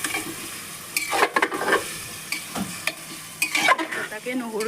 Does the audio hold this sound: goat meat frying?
yes